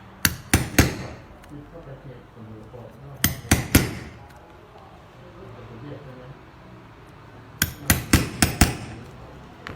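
A leather stitching punch is hammered into thin leather in three bursts of sharp, close metallic strikes, three to five quick blows each, separated by quiet pauses.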